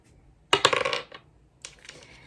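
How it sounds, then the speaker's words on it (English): Dice clatter as they are rolled onto a table during a reading-challenge board game: a sharp burst of rattling hits, a short pause, then a smaller second clatter as they settle. "let's roll the dice and hope I get a good number"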